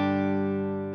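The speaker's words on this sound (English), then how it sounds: "I've got a clean," An electric guitar chord sounds through the Overloud THU amp simulator on a clean setting, sustaining loud and steady for a second and tapering slightly at the end.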